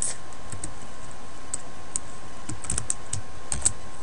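Typing on a computer keyboard while renaming a network switch: a brief run of scattered, close keystrokes and clicks over a quiet background.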